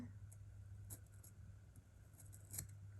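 Scissors snip through a paper planner sticker in a few short, quiet cuts over a steady low hum in the room.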